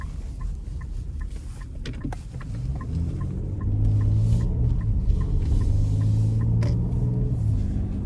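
A 2025 Nissan Armada PRO-4X driving under light throttle in sport mode, a steady low engine and road rumble from inside the cabin that rises slightly in level partway through, with faint higher mechanical tones and no talk.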